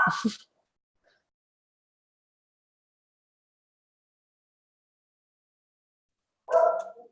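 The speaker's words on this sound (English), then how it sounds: "ignore my dogs, hang on" Pet dogs barking indoors, a short burst at the start and another several seconds later, separated by near silence.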